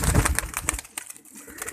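Pigeons coo in a brief, soft burst close by, a low throaty murmur that fades after a moment.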